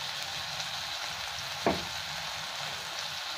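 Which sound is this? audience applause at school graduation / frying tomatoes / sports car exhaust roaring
frying tomatoes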